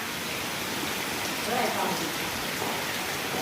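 Steady rain falls continuously, a dense, even hiss of drops on surfaces that swells slightly midway, with faint voices underneath.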